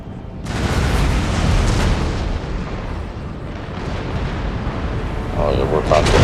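Artillery fire and explosions from a Total War: Empire battle with Russian forces, a dense, loud, continuous roar of booms and blasts that swells early and rumbles on throughout.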